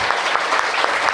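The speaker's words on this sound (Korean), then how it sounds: "하나님께 영광의 박수입니다." A church seminar congregation claps in a quick, even burst of applause that fills the short moment evenly.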